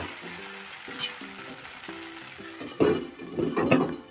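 A ghavan rice crepe cooking covered on a pan sizzles softly at first, with a few light clinks of utensils, then the sizzle swells louder and crackles near the end.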